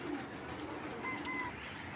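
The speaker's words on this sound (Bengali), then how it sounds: "এটা হলো ইন্ডিয়ান মাদ্রাজ কবুতর" Faint, soft cooing of Indian Madras pigeons against a steady background hiss, low and muffled throughout.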